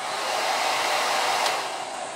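A 1600-watt hair dryer runs at a campsite, a steady loud close whooshing blow of air that holds constant throughout with no speech.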